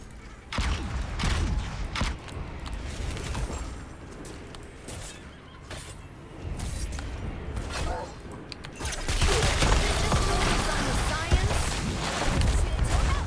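A payload fires in the online battle game Heroes of the Storm, with mechanical creaks, clanks and sharp impact cracks building to a sustained loud barrage of blasts in the final seconds. In-game battle sounds mix throughout.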